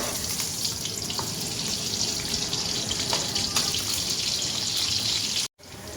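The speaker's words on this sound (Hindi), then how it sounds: "अब हम ऑनियन को फ्राई कर लेंगे।" Chopped onions frying in hot oil in a kadhai, a continuous dense sizzle and hiss filling the whole clip before a brief cut near the end.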